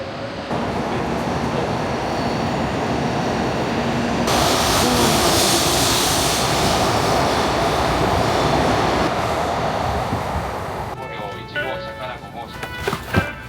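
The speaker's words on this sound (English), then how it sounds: "The minute we got on this train, it was not even until like 20 seconds it just started leaving." A train in Tokyo rumbles and roars as it pulls away, a loud continuous mechanical drone that builds and then fades, with a voice heard near the end.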